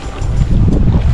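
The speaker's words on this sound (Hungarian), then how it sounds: "Utána erejű lett itt a szél." Strong wind buffeting the microphone on a lakeside fishing venue during spring feeder fishing, a continuous loud low rumble with gusty surges and no speech.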